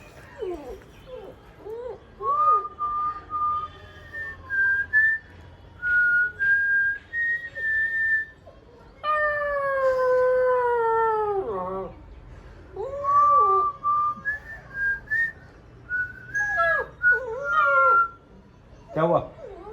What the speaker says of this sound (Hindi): सीटी तो है बेटा